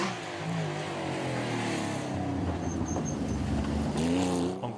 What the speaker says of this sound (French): Encore 2 belles Porsche, celle de Thierry Bousquet